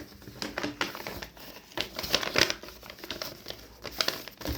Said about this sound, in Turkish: Sonra yine iki kısmı da ortadan ikiye katla.